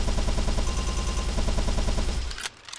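Full-auto gunfire in a first-person shooter video game, a rapid loud stream of evenly spaced shots for over two seconds, then a brief pause and a couple of separate bursts.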